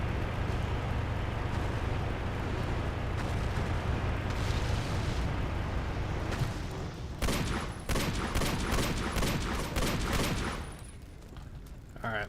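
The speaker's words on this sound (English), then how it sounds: "Rockets everywhere." Dense rolling explosions and rapid gunfire in the video game Battlefield 40K, heavy continuous blasts with sharper cracking bursts toward the end and voices underneath.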